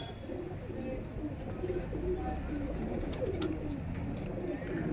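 Several pigeons coo continuously at a loft where a pigeon is being caught, a dense, steady murmur of soft calls at moderate distance with occasional faint chirps.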